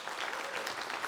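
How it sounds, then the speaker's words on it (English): An audience at a Conservative leadership candidates debate in Toronto applauds, a dense, continuous patter of clapping that holds steady for the whole moment. "Big round of applause for our candidates in this group"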